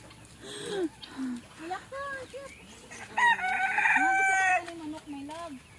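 A rooster crows loudly, its long drawn-out call rising and falling, while people chatter around it and hens cluck nearby, in Puerto Princesa, Palawan.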